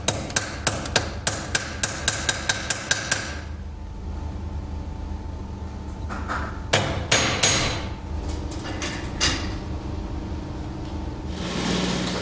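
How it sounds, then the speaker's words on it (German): Sharp, evenly spaced rivet hammer strikes setting brass rivets in a kitchen knife handle ring out about a dozen times in quick succession, followed by a few scattered taps and quieter workshop noise. "dass die Nieten mit dem Niethammer ohne Verkantung eingeschlagen werden"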